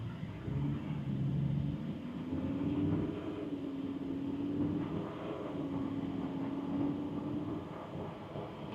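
A Lamborghini Huracán LP 580-2 accelerating from inside the cabin, a muffled low engine drone with a tone that climbs and steps between gears at moderate volume.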